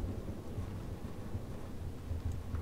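A thunderstorm rages in the video game Life is Strange, episode 5, as a tornado approaches: a steady, heavy low rumble with rain-like noise fills the whole stretch, continuous and fairly loud with no talk.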